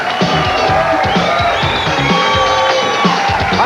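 A live studio crowd at a sports talk show taped at a Dallas, Texas grill cheers loudly and close by, with whoops and shouting voices rising over a dense roar.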